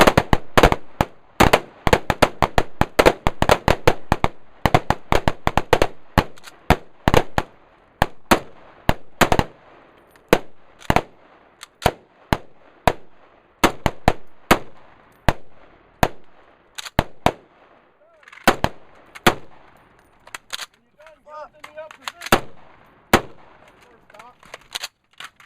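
Springfield M1A Scout Squad rifle gunfire cracks out in rapid strings of loud, close shots, then slows to spaced single shots with pauses and faint talk near the end.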